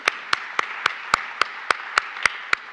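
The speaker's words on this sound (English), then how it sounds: "So big round of applause for everyone and the work that they did" Slow, evenly spaced claps at a weekly meeting come as about ten crisp, distinct hits in a steady rhythm, faint and fairly close, with no voices.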